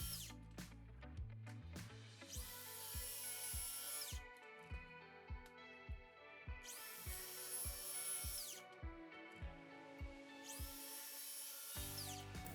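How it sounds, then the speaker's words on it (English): A circular saw makes scoring cuts in wood while a wall-mounted desk is being built. It comes in three loud whining bursts of a couple of seconds each, over a steady rhythmic thumping beat. "Then, I'll set the depth of my circular saw."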